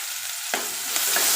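Finely chopped onion hits hot oil with curry leaves and a piece of chilli, setting off a sudden loud hiss that settles into a dense, continuous sizzle.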